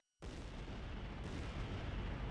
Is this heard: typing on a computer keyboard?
no